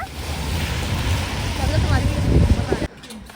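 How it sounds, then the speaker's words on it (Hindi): Strong wind gusts and rain roar outdoors in Korea, a dense rushing noise buffeting the microphone, with a person speaking over it before the noise cuts off abruptly near the end. "भाई हवा चल रही है और बारिश हो रही है."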